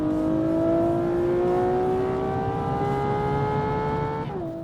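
A high-pitched V12 sports car engine screams as it climbs steadily in pitch through the revs toward 9,250 RPM, loud and sustained, then drops at the end.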